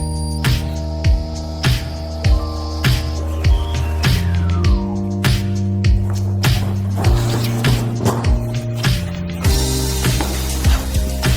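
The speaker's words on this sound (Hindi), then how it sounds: "अब वैक्यूम क्लीनर से रस्सी को इस तरह खींच लीजिए।" A vacuum cleaner hums steadily as it sucks a rope through a pipe or conduit, its tone shifting in pitch as the load changes, with repeated rattling knocks and scraping as the rope drags along. No one speaks.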